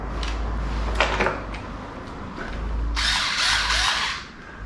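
A Vigrue power screwdriver's motor whirs in short bursts, including a brief run around one second and a louder, brighter run near three seconds, with small handling clicks between and no talk.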